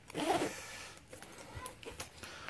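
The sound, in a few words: zipper on a Moose Racing dual sport fender pack being closed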